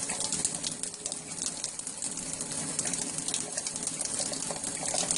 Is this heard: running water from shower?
yes